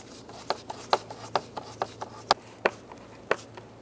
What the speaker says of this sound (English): Let's go ahead and tighten down our hose clamps.